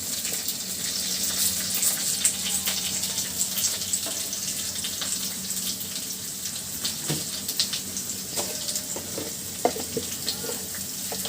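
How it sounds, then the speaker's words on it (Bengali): Whole cumin seeds crackle in a small amount of hot oil, a continuous close sizzle with occasional clinks and scrapes of stirring, a faint running-water wash underneath. "ফোড়নে দিয়ে দিচ্ছি আস্ত জিরা"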